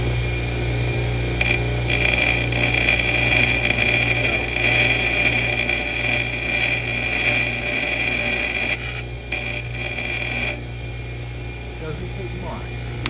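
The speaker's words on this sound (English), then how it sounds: "take it over to the old bench grinder" A bench grinder works steadily against the valve stem of an 1882 Murray engine, a continuous raspy grinding with a constant motor hum underneath, easing slightly near the end.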